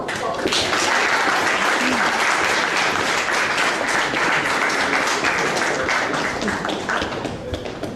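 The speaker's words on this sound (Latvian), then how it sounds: "Aplausi." Audience applause at a doctoral research slam event, a loud continuous round of clapping from a packed room, with a few voices beneath it, lasting the full eight seconds.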